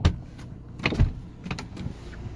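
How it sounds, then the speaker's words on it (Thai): Door of a Mercedes-Benz E-Coupe W207 opening, with a couple of soft mechanical clunks and a brief whir inside the car, close and fairly quiet. "ตัวรถถ้าสมมติผมเปิดประตู"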